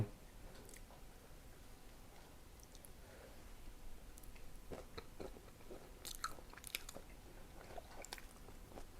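Someone eating pineapple fried rice, with faint, close chewing and occasional soft crunches and wet mouth sounds over a quiet background.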